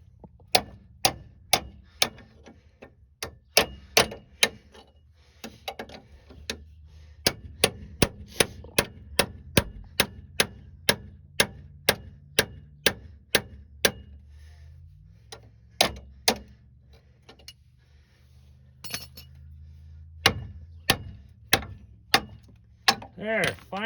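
A hammer strikes repeatedly on the ball joint of a 1999 Suburban, sharp metallic blows in uneven bursts, some rapid and some spaced, close and loud with brief pauses between series.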